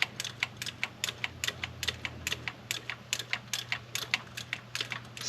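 A ratchet clicks in quick, steady bursts while thermostat housing bolts are tightened on a Fox Body engine, sharp close ticks in an even rhythm with nothing else heard.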